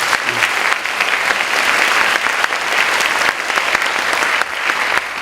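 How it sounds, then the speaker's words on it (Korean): A church congregation at a Sunday worship service gives sustained, loud, even applause for several seconds, with no talking over it. "우리 축복 선포식을 하신 세 가정께 다시 한번 축하의 박수 부탁드리겠습니다."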